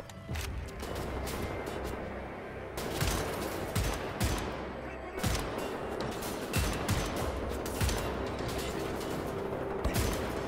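Sniper rifle fire in Wolfenstein: The New Order, a run of loud, close shots and sharp cracks spread across the stretch, some in quick clusters, over a constant hum of game ambience.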